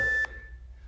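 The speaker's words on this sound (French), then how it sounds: "Jusqu'au bip." A single short electronic timer beep, clear and sharp, followed by quiet room hum.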